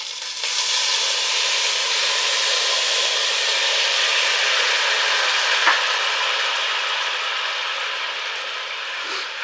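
Water poured into a hot pan while cooking a coquelet (young chicken) sets off a loud, steady broadband sizzle that holds evenly for several seconds, with a brief sharp crackle partway through and no voices.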